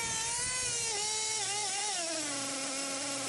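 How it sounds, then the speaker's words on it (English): High-pitched whine of an RC car motor revving hard as its transmission slips, the pitch wavering and then sliding downward over a few seconds, loud and close with no talking. "it just goes to a high rev, and the RPMs shoot up because it slips out for a second right about here"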